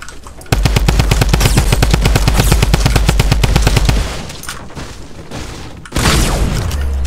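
Gunfire in the Fortnite video game: a long, loud burst of rapid automatic fire cuts off, followed by quieter scattered shots and then another loud burst near the end.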